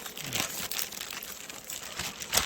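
Plastic sheeting crinkles and crackles as it is handled over a native honeybee hive, a steady close rustle with a few sharper crunches.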